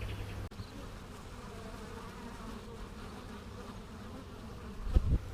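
Honeybees drone steadily around a hive, a close continuous buzz with a brief sharp knock near the start and a louder swell of buzzing near the end.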